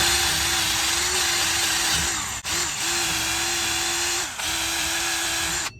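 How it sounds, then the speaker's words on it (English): A small wire brush spun by a power tool scours the surface of a new brake rotor on a 2013 Ram 1500, a steady high whine with two brief dips as it catches. "Little wire, brush."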